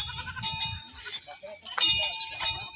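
Farmyard goats, including young kids, give several short wavering bleats close by, overlapping one another with brief pauses between calls.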